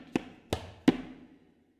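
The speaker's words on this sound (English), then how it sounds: "This is the sound of terekete." Tabla playing the quick stroke pattern terekete: three sharp, close strikes about a third of a second apart, each ringing briefly before fading to quiet, played alone with no talking.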